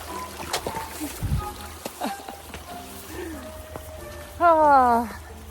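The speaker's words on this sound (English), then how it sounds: "Found a little water crossing here. Plenty of rocks to hop over." Hiker's feet splash and step across rocks at a stream crossing on the Centennial Trail, with scattered water noises and knocks, ending in a louder wavering tonal burst; no speech.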